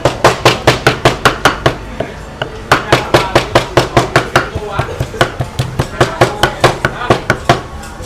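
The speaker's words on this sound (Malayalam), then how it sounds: "ബീഫ് ഇതാ ചെറിയ ചെറിയ കഷ്ണങ്ങളായിട്ട് കൊത്തി നുറുക്കുകയാണ്" Beef being chopped into small pieces at a Thai restaurant, sharp loud knife strikes on a board in a fast, even rhythm with a brief pause midway before the chopping resumes.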